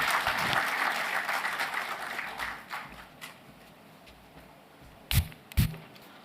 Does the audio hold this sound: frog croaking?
no